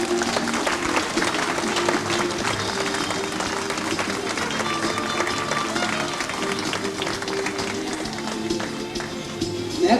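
A crowd at a wedding reception keeps up steady, sustained applause for the whole stretch, a dense continuous patter of clapping.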